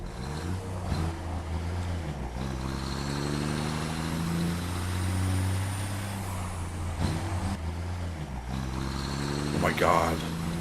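A truck drives in the video game Satisfactory with a rumbling engine drone that rises and falls in pitch as it shifts, mid-distance and steady, while a player talks over it.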